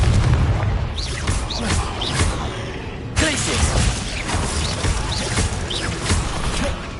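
Repeated Confringo blasting spells in Hogwarts Legacy go off as loud booming bursts over dense, continuous game noise, with a sharp fresh blast near the middle and more rumbling hits throughout.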